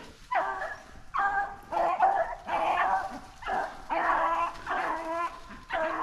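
Several beagles on a rabbit hunt in Pennsylvania bark and bay in repeated bursts, fairly close, with whining yips between the barks.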